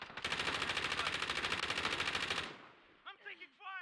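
Rapid automatic gunfire in Call of Duty Warzone rattles in a dense continuous burst for over two seconds, then cuts off, followed by a few quieter scattered shots and metallic clanks.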